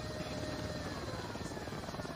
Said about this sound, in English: So the helicopter don't find us.